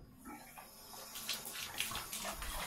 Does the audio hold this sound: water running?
yes